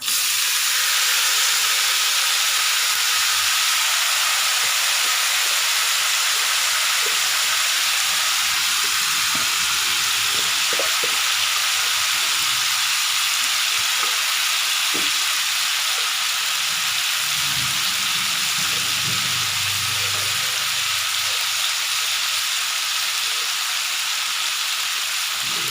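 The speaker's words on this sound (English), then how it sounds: "Now the curry leaves have fried nicely, so we'll go ahead and add the cauliflower" Cauliflower fries with curry leaves in a hot pan, producing a continuous loud sizzling hiss with occasional stirring clinks and scrapes.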